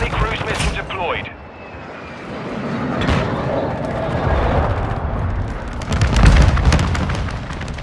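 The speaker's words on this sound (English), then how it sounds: "Friendly cruise missile deployed" Cruise missile blasts in a Call of Duty: Modern Warfare II team deathmatch: heavy booming explosions and rumbling impacts layered with gunfire, loud and close, with game voice announcements over parts of it.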